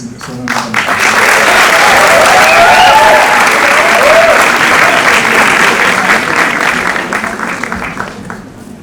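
Sustained audience applause at a press event, rising quickly to a loud, dense wash of clapping that holds for several seconds before slowly tapering, with faint voices underneath.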